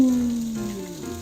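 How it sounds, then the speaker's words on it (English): Loud, steady sizzling of vegetables stir-frying in a hot pan, continuous for the whole moment with no talking. "Do you hear the sizzling?"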